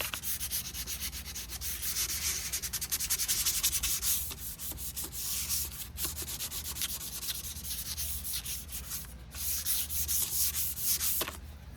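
Continuous rhythmic scratching of 220 grit sandpaper rubbed back and forth to scuff a surface on a Honda Civic, steady and close, with no talking.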